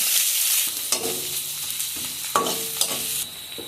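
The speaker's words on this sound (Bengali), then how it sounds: "তেল গরম হয়ে গেছে কুচানো পেঁয়াজ দিয়ে দিচ্ছি" Chopped onion goes into hot oil in a wok and fries with a steady sizzle, broken by the scrape and clatter of stirring at close range.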